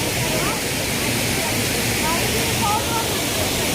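Gundichaghagi waterfall in Keonjhar, Odisha, roaring as a loud, steady broadband rush of falling water that fills the whole moment, with faint voices buried underneath.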